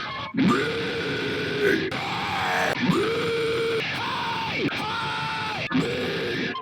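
A man screams repeatedly into a hot microphone, held back from it for lo-fi vocal effect, giving five or six loud, sustained yells separated by brief breaths.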